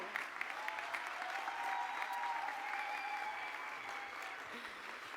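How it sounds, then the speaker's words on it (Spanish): A crowd applauds steadily at a political speech for the Battle of Pichincha anniversary in Ecuador, a dense wash of clapping that stays even and fairly distant for several seconds. "Recibimos con ese aplauso"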